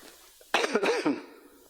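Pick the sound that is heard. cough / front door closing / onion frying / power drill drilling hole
cough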